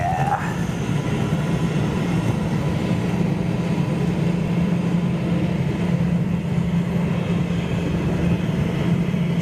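A Boeing 777 freighter jet at the Frankfurt cargo hub gives a steady, loud, broadband engine roar with a low rumble that holds unbroken throughout, alone without voices.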